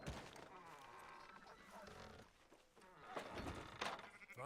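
Sheep bleating in Red Dead Redemption, wavering cries overlapping with other game sounds, fairly quiet.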